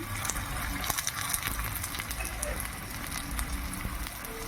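Cumin seeds hitting hot oil alongside fried green chillies and a dried red chilli for an amla (usirikaya) pickle, giving a steady, dense sizzle and crackle close by with no voice over it.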